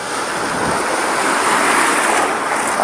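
Big waves surging during Typhoon Ada, a loud continuous roar of surf and churning water mixed with wind buffeting, close and unbroken, no voices.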